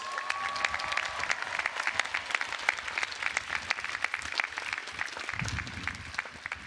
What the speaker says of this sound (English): Graduates, please give the champions who have always been in your corner a big round of applause